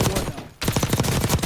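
Kilo assault rifle held on full-auto in the video game Warzone, loud rapid shots in a steady rhythm, briefly pausing before resuming.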